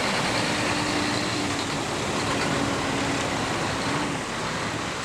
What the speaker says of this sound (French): Les camions remplis de béton roulent trop vite.